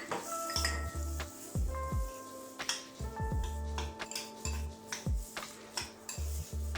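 Chopped spring onion added to a pan for a rice omelette, with sharp clinks and knocks of utensils against cookware in an irregular pattern, ringing tones lingering between hits, no talking.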